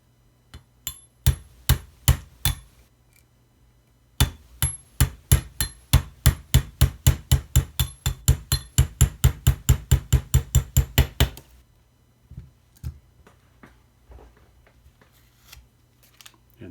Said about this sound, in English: Give it a few taps.